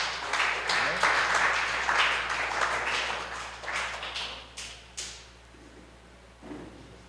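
A church congregation at a Portuguese-language service claps their hands joyfully, with dense clapping that thins out and fades by about five seconds, followed by a few scattered claps.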